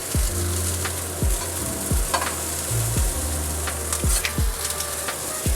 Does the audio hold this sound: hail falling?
no